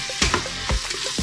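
Chorizo and tomato paste being stirred together in a pan, a spoon scraping through the thick mixture in several short, uneven strokes over a soft background sizzle, close and moderately loud.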